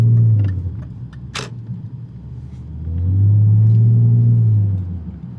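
Steady low engine and road rumble from inside a BMW E39 car on the move, swelling louder as it accelerates midway, with a few faint clicks.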